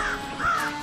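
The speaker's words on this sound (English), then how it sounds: "I think it's about time we saw what these crafty crows are truly capable of." Crows caw in the video game Tearaway, a pair of raspy calls close and clear in quick succession, the second louder and sustained.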